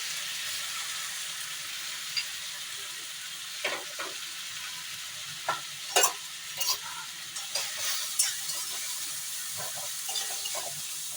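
Spices, ginger paste and garlic-chili paste fry in oil on low heat, making a steady hissing sizzle with occasional clinks and stirring scrapes against the pan.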